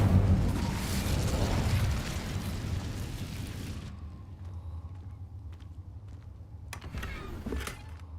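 The Incendio fire spell cast in the Hogwarts Legacy video game bursts out as a loud, roaring blast for several seconds, then fades into a quieter rumbling tail with a few faint clicks near the end.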